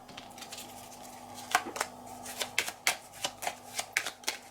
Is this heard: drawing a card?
yes